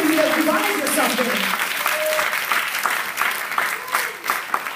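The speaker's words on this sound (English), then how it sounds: "Go ahead and give an applause" A church congregation applauds during a bilingual sermon, with sustained dense clapping while a voice speaks over it at the start.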